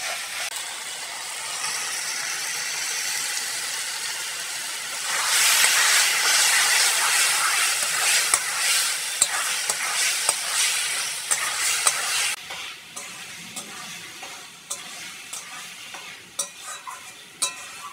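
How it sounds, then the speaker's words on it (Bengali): Goat fat sizzles and hisses loudly in a hot pan after ginger and garlic, a steady frying crackle that swells sharply partway through, then settles into sputtering pops and scraping stirs. "এইবার খাসির চর্বিটা দিয়ে দেবো।"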